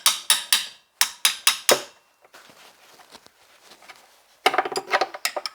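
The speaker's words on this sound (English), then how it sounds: "we'll loosen the power steering belt, and the way you do that is by loosening 2 bolts" An open-ended 12mm spanner loosens power steering pump bolts on a Hyundai Getz: a run of sharp metallic ratcheting clicks, then faint fiddly scraping, then another burst of quick clicks, all close and without talk.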